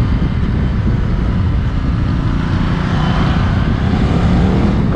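A Ducati Multistrada 1260 motorcycle rumbles steadily while riding on a rough road, its engine note droning continuously under heavy wind noise with no letup.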